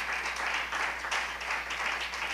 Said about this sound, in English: Let's clap our hands one more time and give God a praise.